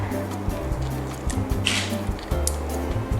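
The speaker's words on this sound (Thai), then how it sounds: "เราก็จะต้องมาควักไส้แคนตาลูปทิ้งก่อนนะคะ" A spoon scoops the seeds and pulp out of a ripe cantaloupe, giving wet, squishy scraping sounds in short, repeated strokes close by, alongside a low background hum.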